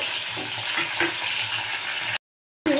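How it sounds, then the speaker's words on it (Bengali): Barramundi fish frying in hot oil, a steady crackling sizzle with a few sharper pops, close by, cut briefly by a moment of silence near the end. "যেহেতু আমার 4 পিস মাছ, আমি 2 পিস করে ভেজে নেব"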